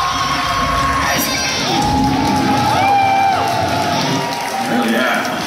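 At a metal concert in Sydney's Max Watts, the crowd roars and whoops loudly in a sustained wave of cheering and shouting that swells and holds for several seconds.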